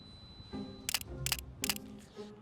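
A camera shutter fires three quick mechanical clicks in a continuous low-speed burst, evenly spaced and close, over a quiet background during outdoor photography in San Francisco.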